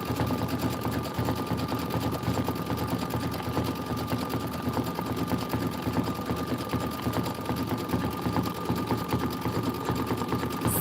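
An embroidery sewing machine stitches out a leaf fill design with a rapid, even, continuous needle chatter, close and steady throughout, with no talk.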